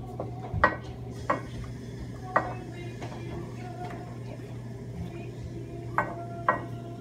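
A spoon stirs sweetened condensed milk and corn syrup in a pot for zebra popcorn, giving occasional sharp clinks and scrapes against the metal over a steady low kitchen hum.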